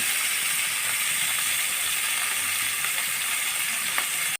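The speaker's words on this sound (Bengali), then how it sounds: "মাছগুলো আমি একটু সময় নিয়ে ভাজবো লাল লাল করে ভেজে নেব" Baim eel pieces fry in a pan, the hot oil giving off a dense, continuous sizzle with faint crackles. It holds steady, with no voices, and cuts off abruptly at the end.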